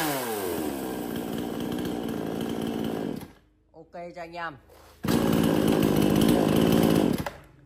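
A Vietnamese E2 gasoline chainsaw engine runs loud and rough near the mic, drops out briefly while someone speaks, then roars back at full throttle.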